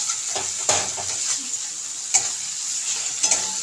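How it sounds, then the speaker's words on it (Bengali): Long strips of capsicum stir-fry in a pan with parshe fish, a loud steady sizzle punctuated by several clattering spatula strikes and scrapes against the pan, close and without voices. "এখন এর মধ্যে আমি অল্প একটু ক্যাপসিকাম এরকম লম্বা লম্বা করে কেটে রেখেছিলাম, দিয়ে দিলাম।"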